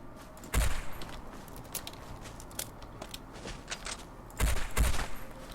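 Two bursts of rapid electronic blasting from a Tesla cannon energy weapon in Fallout 4 punctuate a steady noisy background, with a few faint shots in between.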